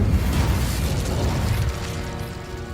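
Incendio fire spell from Hogwarts Legacy bursting in a loud, sustained roar of flame with rumbling low end and crackle, fading slightly toward the end.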